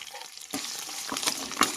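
Green chillies, curry leaves and coriander fry in hot oil for a tempering, giving a brief crackling sizzle broken by a few sharp stirring clinks and spits, close up.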